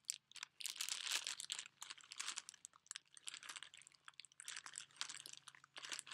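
Close, bursty crinkling and crunching of plastic or paper packaging being torn and handled, with short pauses between rustles.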